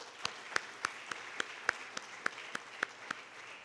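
Sparse audience applause at an annual university research symposium inauguration ceremony, a handful of individual claps spaced evenly over a steady hiss, fairly faint and distant, with no talking.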